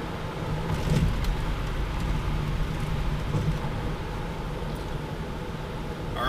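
An Aston Martin DB9 coasting on the road with its engine off throttle gives a steady, broad rumble of road and wind noise, moderately loud and unbroken throughout, with no voices.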